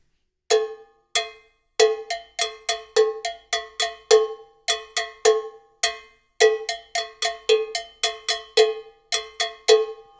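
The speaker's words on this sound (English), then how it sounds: "If you make this combination in a slow tempo, it sounds like this." Mambo bell and bongo bell played together at a slow tempo: two pitches of clanking cowbell strikes interlock in a relaxed, repeating groove, close and loud, unaccompanied.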